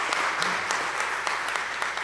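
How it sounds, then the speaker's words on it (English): Audience at a public hearing on an energy plan applauding the chairman, a brief burst of clapping from a modest crowd, moderately close, with a faint voice underneath. "let's offer a round of applause for Chairman Thomas here."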